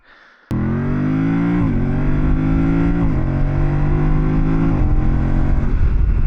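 Yamaha Tenere 700 adventure motorcycle, a 2025 bike fitted with a quickshifter, revving hard under acceleration, the steady engine drone stepping down in pitch at three quick gear changes; loud, close and continuous with no voices.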